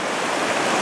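Fast-flowing river water rushes over rocks in a steady, loud, close hiss with no breaks. No voices are heard over it.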